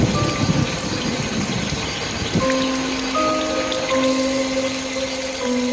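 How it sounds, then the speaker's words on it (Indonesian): Heavy rain pours with a dense wash of drops and gushing water, joined midway by sustained eerie tones in a mountain horror story setting, loud and continuous with no voices. "Seketika langit menjadi kelabu, hujan turun deras."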